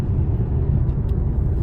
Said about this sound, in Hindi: ओ एग्जॉस्ट की साउंड भी एकदम ही बदल गई है